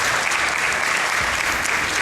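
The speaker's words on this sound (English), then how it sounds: "So I heard some clapping earlier for the area clear." Audience clapping at the Summer Games Done Quick 2019 speedrun event during a Tetris Effect run, a steady wash of applause that stays even and fairly distant for the whole moment.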